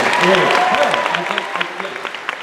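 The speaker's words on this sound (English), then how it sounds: "Let's give him a round of applause." Audience at a 2016 Supernatural fan-convention panel applauds: a scattered patter of clapping runs under someone talking, thinning out toward the end.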